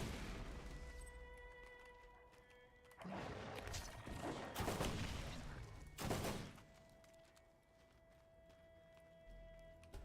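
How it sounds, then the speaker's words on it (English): Burst-fire gunshots in the Borderlands video game ring out as several loud, rapid clusters of sharp blasts over a low background hum and music, with quieter stretches between the bursts. "I do like a burst fire every now and again"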